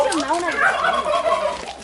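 A turkey gobbles in a rapid, warbling burst, loud and close, lasting nearly two seconds, at a small animal pen with hens, a rooster and rabbits below Geumo Mountain, Gumi, Korea.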